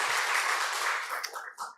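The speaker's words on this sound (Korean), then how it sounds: "우리 권사님께 박수 한번 드리면" A church congregation at a Sunday worship service applauds a returning deaconess, a soft, dense wash of clapping that fades out after just over a second.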